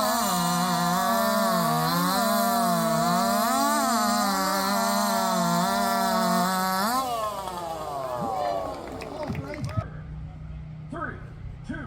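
Chainsaws at a 2023 chainsaw race in Jackson, Alabama roar loud and near at full throttle, pitch wavering, then the engine note drops and fades as the cut ends, leaving softer background noise.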